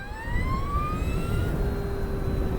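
A 260-kilo Energica Experia electric touring motorcycle pulls away, its motor whine climbing steadily in pitch over a constant rush of road and wind noise, close and fairly loud, with no voices.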